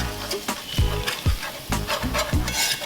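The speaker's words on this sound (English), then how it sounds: "I'm going to give it a good whisk" Flour being whisked into homemade gravy in a pan, a run of quick, separate scraping strokes with short pauses between them, close and clear with no talking.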